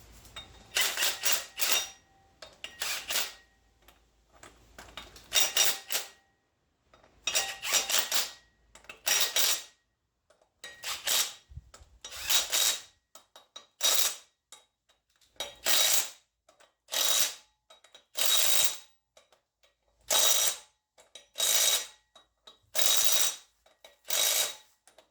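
A ratchet clicks in repeated close bursts while engine bolts are tightened on a tall-deck engine build, the short rattling runs separated by brief pauses over about twenty-five seconds.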